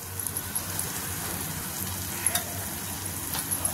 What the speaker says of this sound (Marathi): 1 चमचा अद्रक लसूण पेस्ट टाकायचे आणि छान हलवायचे